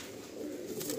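Kalsira pigeons for sale, a male and a female, give a soft, low, steady cooing that runs through the whole second, close and moderately loud with no talk over it.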